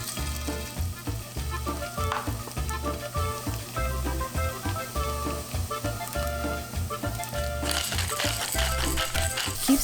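Garlic with tomato paste and seasonings sizzling in a pan while being stirred, a continuous close crackling fry with rhythmic scraping and clattering throughout.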